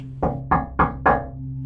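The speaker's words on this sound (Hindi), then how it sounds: "ऐसा लगा जैसे कोई मेरी खिड़की पे खटखटा रहा हो।" Four evenly spaced knocks on a window, each a sharp rap with a short ringing tail, over a steady low hum in a quiet room.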